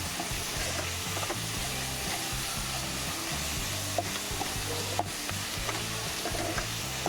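Fried peas with turmeric, salt and ground spices stirred in a pan, a steady sizzle with continuous scraping strokes and a couple of sharp clinks, close and alone without talk.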